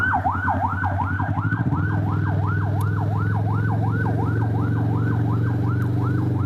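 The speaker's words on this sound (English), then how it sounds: "There's an ambulance coming." A loud wailing ambulance siren sweeps up and down steadily and rapidly, close by, with a low engine hum beneath it.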